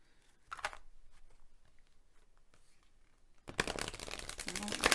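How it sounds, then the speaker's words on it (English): Thick oracle cards being shuffled by hand close up, a few soft riffles at first, then a louder, dense run of flapping and rustling card shuffles toward the end. "I've already shuffled, so I don't know why I'm shuffling again, but one more. These cards are really thick."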